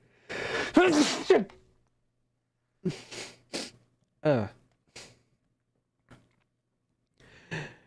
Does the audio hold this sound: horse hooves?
no